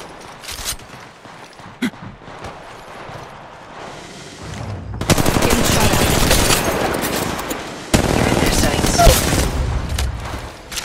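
Sustained automatic gunfire from a mobile shooter game erupts after a quieter opening, with loud machine-gun bursts filling the second half and a short break before another volley. Game voice callouts are faintly audible.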